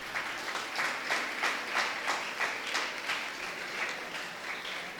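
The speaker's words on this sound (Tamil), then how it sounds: "ஒரு கைத்தட்டல் கொடுக்கலாமே." Audience applause at the reopening ceremony of a renovated college auditorium: soft, distant clapping in a steady wash with gentle swells, heard alone without talk.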